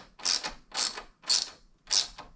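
Final screw being driven while fitting a Yoshimura exhaust to a KLX 300 motorcycle, four even ratcheting bursts about half a second apart, close and moderately loud, no talking.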